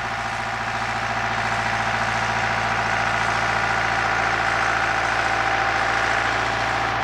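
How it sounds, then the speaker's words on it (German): A tractor pulling a cultivator through hop field rows, its diesel engine droning steadily with low rumble and vibration, loud and close with no talk. "fährt zum Auflockern des Bodens mit dem Grubber durch die Reihen"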